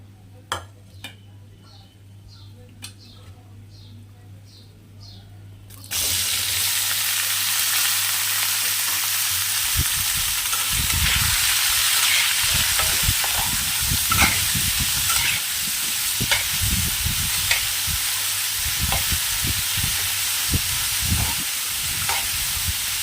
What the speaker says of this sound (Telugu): చూడండి కొంచెం బాగా ఫ్రై అవ్వాలి బాగా ఫ్రై అయితే చిన్నగా అయిపోతుంది